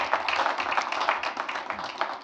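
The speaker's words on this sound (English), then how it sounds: "we can give him a round of applause" People at a school board meeting applaud, with brisk, fairly close clapping filling the short span at an even level and no talk over it.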